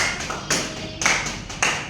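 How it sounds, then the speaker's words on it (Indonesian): A classroom group clapping hands, a few loud, sharp bursts of claps at irregular intervals, close and echoing briefly in the room. "tepuk tangan buat kelompok ini"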